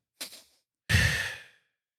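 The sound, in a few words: calming breath, two quick inhales then longer exhale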